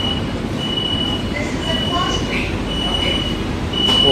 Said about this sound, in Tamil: அலாரம் அடிச்சு தான் ஓப்பன் டோர் க்ளோஸ் ஆகுது